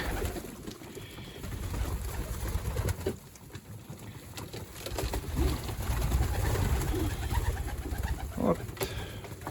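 Pigeons coo softly while feeding, low murmuring calls near and fairly quiet, with a brief higher call near the end amid faint rustling.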